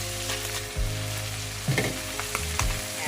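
A salmon head fries in a pan with a continuous loud sizzle, broken by brief scraping clatters as it is flipped midway, with an electrical hum underneath.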